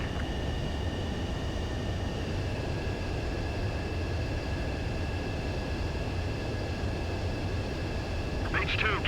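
A steady, loud roar of an F-14D jet engine fills the scene as the plane comes in to land on an aircraft carrier deck in the game Ace Combat 7, with faint tonal hums above and no talk.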